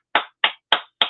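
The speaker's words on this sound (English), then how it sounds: "that's an applause for anybody that's given a pound." Four sharp, evenly spaced hand claps, close and loud, given as applause for donors to a food bank fundraiser, with no other sound around them.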